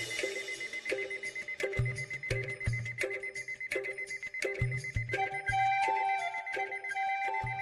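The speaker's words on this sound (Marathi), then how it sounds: "अहो अलार्म वाजतोय" An alarm ringtone sounds on a mobile phone: a bright electronic ring repeats in a steady, rapid pattern and keeps going without a break, close and clear, with no talking over it.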